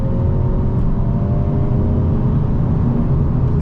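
A 2025 Hyundai Elantra N with dual-clutch transmission pulls hard from inside the cabin, a loud, steady engine drone and road roar with a faint rising tone and no gear break.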